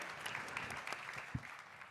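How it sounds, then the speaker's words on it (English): An awards ceremony crowd claps continuously in a faint, distant wash of applause, with no voices coming through. "Big round of applause"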